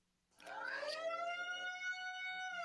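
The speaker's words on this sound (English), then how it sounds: "we know air raid siren" An air raid siren sound effect rises quickly from silence to a loud, steady wail with a slight upward sweep, then holds its sustained tone with no talking.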